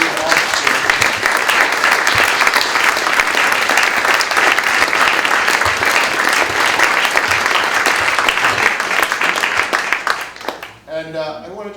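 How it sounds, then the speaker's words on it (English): A theater audience bursts into sustained, loud applause for the cast and crew, dense clapping and crowd noise filling most of the stretch before fading out near the end. "So let's give them all a round of applause for the rest of"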